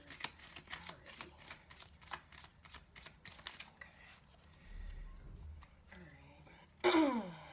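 Tarot cards being shuffled and flipped, a rapid run of crisp riffling flicks for several seconds, then softer handling and a louder final riffle, close, with a voice speaking briefly.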